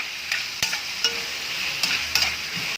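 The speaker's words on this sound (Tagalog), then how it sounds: "I-stir fry natin to mga idol." Papaya and shrimp stir-frying in a pan, giving a steady close sizzle with a few sharp clinks and scrapes of a utensil stirring at irregular moments.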